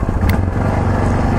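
Yamaha Tenere 660 motorcycle riding on a dirt road, its engine a steady, loud low rumble at close range with a brief clatter, no voices.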